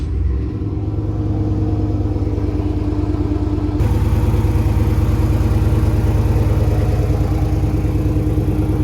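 A lifted mud truck on 44-inch Boggers, jacked up in the air, runs its engine with a steady low rumble that steps up a little as it is shifted into drive partway through, alone and close.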